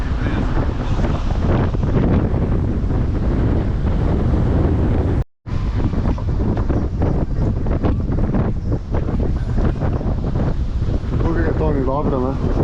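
Strong wind buffets a microphone aboard a Cyclades 50.5 sailing yacht in winter, a continuous loud roar with sea wash, briefly cut out once, with people talking over it.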